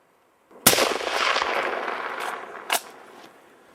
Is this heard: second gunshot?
yes